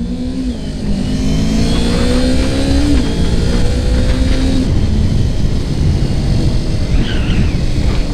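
A 2018 Kawasaki Ninja 250 motorcycle accelerates to overtake, its engine revving up in a rising, loud whine close to the rider, with strong wind and road rumble underneath.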